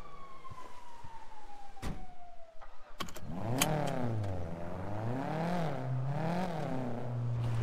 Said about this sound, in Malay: So kita pergi test kereta kita.